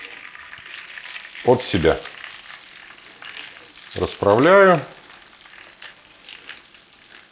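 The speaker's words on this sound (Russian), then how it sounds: "Второй кусок в сковороду." Breaded pork schnitzel, coated in flour, egg and breadcrumbs, sizzling steadily in a frying pan as a second piece goes in, with someone talking briefly over the frying.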